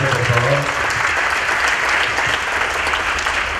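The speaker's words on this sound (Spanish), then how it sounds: "Un aplauso para Felipe, por favor." Loud, dense conference audience applause filling the whole stretch, steady from start to finish, with a brief voice at the very beginning.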